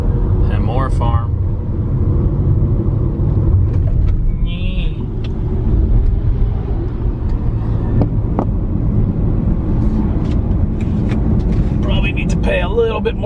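Car driving along a country road through farmland, a steady loud engine and road rumble heard from inside the moving vehicle with wind noise, continuous throughout.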